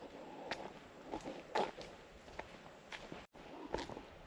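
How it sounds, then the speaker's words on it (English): Faint footsteps on a path during a cruise excursion, with a handful of soft, irregular steps and scuffs against quiet background ambience. "I hear footsteps, but they sound like lizard footsteps."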